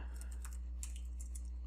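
Typing on a computer keyboard, a quick run of light clicking keystrokes in irregular bursts over a steady low hum, close and fairly quiet.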